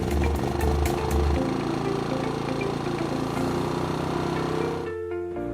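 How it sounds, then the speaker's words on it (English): A BISON gasoline-powered silent inverter generator, started with its electric starter switch, runs with a steady mid-pitched engine drone. The sound cuts out abruptly near the end. "Start the machine by pressing the starter switch."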